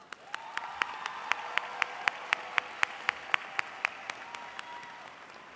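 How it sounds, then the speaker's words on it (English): Steady applause from a crowd at a high school graduation ceremony, with sharp distinct claps standing out above a dense wash of clapping that holds for several seconds then begins to thin. "Please give them a round of applause."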